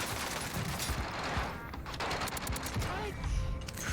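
Rapid bursts of Milano gunfire in a first-person shooter video game, dense automatic fire crackling through the whole stretch alongside other game sounds, with speech mixed in.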